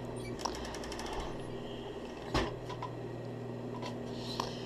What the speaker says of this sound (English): So now at the second machine, we're going to go ahead and feed it under the pressure foot just a little bit.